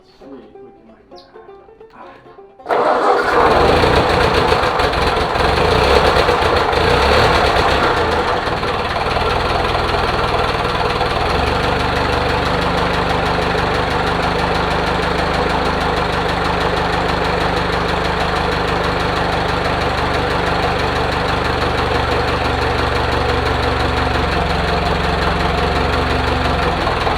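A 1939 Ford tractor engine cranks, catches and runs after revival. A sudden loud start gives way to a steady, rough, knocking idle that holds close and continuous for the rest.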